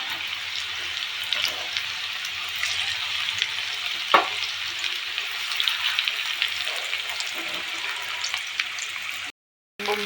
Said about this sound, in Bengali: পকোড়ার মাংসগুলো ভালো করে ভেজে নিচ্ছি